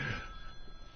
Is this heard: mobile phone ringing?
yes